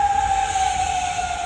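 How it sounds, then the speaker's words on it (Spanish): Air raid warning siren in the Middle East, a steady sustained tone holding loud throughout with no talking. "Las sirenas vuelven a sonar en Oriente Próximo"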